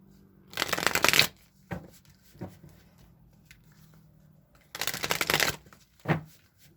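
Oracle cards being shuffled, two bursts of rapid riffling flutter close by, each followed by a soft tap as the deck is squared, with quiet handling between them.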